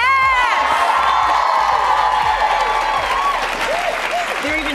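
A studio audience on a morning TV show breaks into loud, sustained applause mixed with cheering, high whoops and excited shouts, a dense, close wall of clapping throughout.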